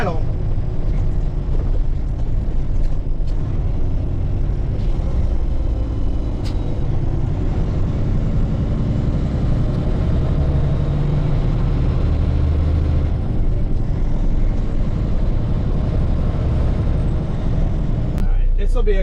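A loaded dump truck weighing about 99,000 to 100,000 pounds rolls downhill in first gear toward a red light, its steady low engine drone and road rumble running throughout, close and continuous, with a sharp rattle near the end.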